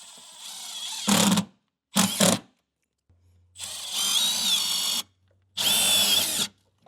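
Power drill driving self-tapping screws through a steel plate to mount a flat-tow brake bracket on a 2018 Jeep JK Wrangler, in four loud bursts: two short ones, then two longer sustained runs with pauses between.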